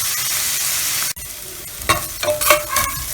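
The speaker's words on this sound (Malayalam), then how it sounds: "സവോള നന്നായിട്ട് വഴണ്ടി വന്നിട്ടുണ്ട്." Onions sautéing in oil left over from frying tandoori chicken, a steady close sizzle stirred with sharp scrapes and clatters of a utensil toward the end, no voices.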